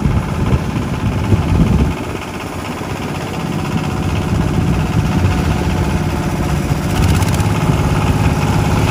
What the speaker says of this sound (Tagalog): tuloy-tuloy pa rin yung ano nila pag test dito po sa bagong motor nga po para dito sa outfall ng Padre Paura